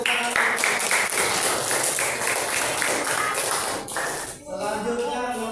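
A classroom of students claps together in a burst of fairly loud, dense clapping that fades out near the end, followed by a brief voice.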